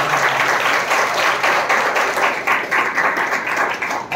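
A church congregation claps together in praise of God during a Hindi sermon, a dense, sustained wash of applause with slightly rising and falling swells, loud and close, no talk over it.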